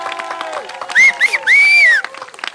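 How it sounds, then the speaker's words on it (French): An audience in an occupied theatre applauds and cheers, with shrill whistles and shouts cutting through, alongside a voice speaking over the clapping. "Faites un tonnerre d'applaudissements."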